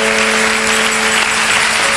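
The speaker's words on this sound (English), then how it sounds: "Come on, put your hands together for him." A church conference crowd at the Glorious Dome applauds Apostle Emmanuel Adade, loud dense clapping that fills the space with music sustained underneath.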